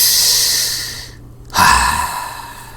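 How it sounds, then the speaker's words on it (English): A single deep breath taken close to the microphone, a long drawn inhale that pauses briefly, then a louder, fuller exhale, heard alone with no talk. "Deep breath."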